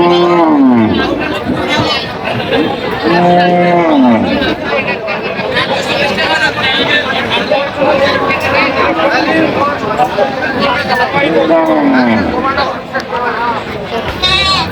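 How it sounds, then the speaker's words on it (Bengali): Sahiwal cows low several times, drawn-out calls rising over constant crowd chatter and nearby talking at a busy livestock market in Aftabganj. "শাহিওয়াল গাভীর আছে আমরা দেখছিলাম এখানে"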